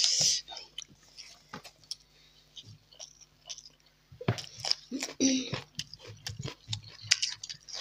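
Someone eats spicy fish curry with rice, with soft close chewing and small crunchy bites in uneven bursts, quiet stretches between them and faint background hum.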